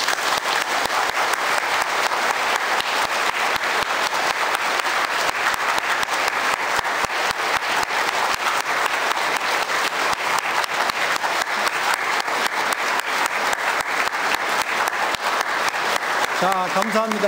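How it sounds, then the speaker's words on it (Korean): Church congregation in a Korean Catholic parish in Atlanta applauds newly baptized and confirmed members during the Easter Vigil: dense, steady clapping from a large indoor crowd that fills the whole stretch, with a voice starting to speak at the very end. "우리 신자들 모두 박수 한번 쳐주십시오"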